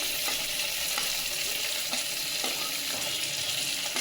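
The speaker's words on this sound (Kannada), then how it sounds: "ಇದನ್ನೆಲ್ಲ ಸ್ವಲ್ಪ ಫ್ರೈ ಮಾಡ್ಕೊಳ್ಳೋಣ" Onion, eggplant and potato sizzle loudly and steadily in hot oil in a close pan, with repeated soft scrapes and stirring strokes over the constant crackle.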